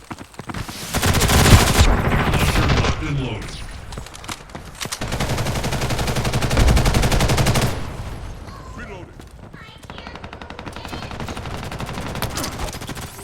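Gunfire bursts from a sniper rifle in the multiplayer shooter Ghost in the Shell: First Assault, loud and close in dense clusters that come and go, with other battle noise between them.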